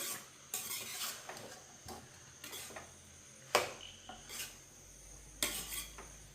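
A spoon stirs chicken stew in a metal pot, scraping and clanking against the sides in uneven strokes with a few sharper knocks, close by and fairly quiet beneath a faint sizzle.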